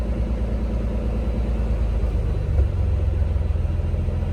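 A warmed-up Nissan 300ZX engine idles with a steady low rumble, even and unbroken, close by with no speech.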